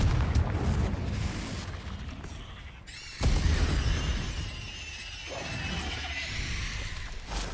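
A Confringo fire-blast spell in Hogwarts Legacy erupts as a sudden loud crashing burst partway through, spreading into a rumbling, crackling roar. It sits amid ongoing combat noise and rumble, with no voices.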